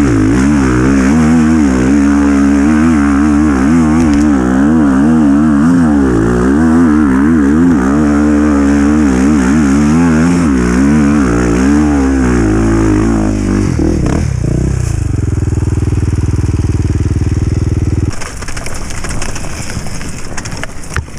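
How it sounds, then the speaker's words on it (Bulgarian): Two-stroke motorcycle engine revving hard, a loud buzzy wavering drone that rises and falls repeatedly, then settles into a lower steady idle before cutting to quieter background noise. "Мотора работи много, много по-добре с тях."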